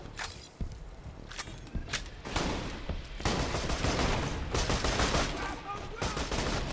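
Video game gunfire in Borderlands 2 aimed at the player: sharp isolated shots early, then a dense, continuous fusillade of rapid bursts, fairly close, with footsteps mixed in.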